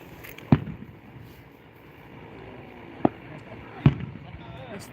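Fireworks going off at an outdoor show, a few sharp bangs well apart and mid-distance, with a low crowd murmur and faint talk running underneath.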